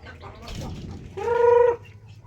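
A chicken clucks and calls in a short, loud burst after quieter low rustling, close by.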